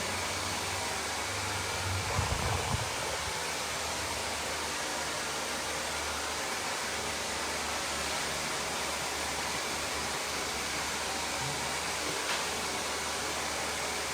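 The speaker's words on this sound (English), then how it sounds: "So this is kind of like the old school way of the blow drying of the hair" A hair dryer blows hair during a precision bob haircut in a salon, making a continuous, loud broadband whoosh that barely changes for the whole stretch, with faint handling sounds near the start.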